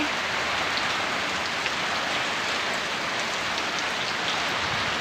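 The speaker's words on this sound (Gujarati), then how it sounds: "જુઓ વરસાદ ને વાવાઝોડું" Heavy, continuous rain pounds on surfaces close by in a windstorm, a dense steady roar with no pauses.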